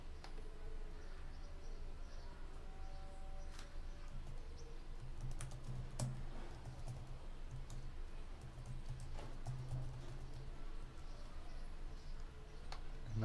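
A computer keyboard clicks in quiet irregular bursts of keystrokes against a faint hum, as a password is typed during a WordPress install on a Lubuntu Linux machine.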